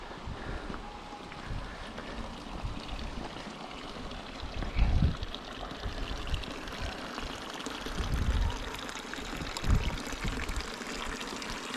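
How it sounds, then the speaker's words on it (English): Water pours steadily into a mountain drinking trough fed from a diverted stream in Val Gardena, a soft continuous splashing with light wind in the background. "there's a very pretty little trough here where you can top up your drinking water."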